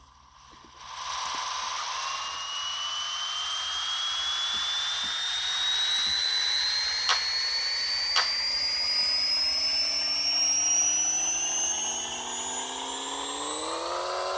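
A VTEC car engine in the video game Pixel Car Racer revs on a dyno, a synthetic whine climbing smoothly and steadily in pitch for more than ten seconds, loud and alone.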